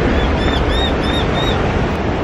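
Big ocean waves rolling in at Coolangatta Beach, a loud, steady roar of surf and wind noise with no talking.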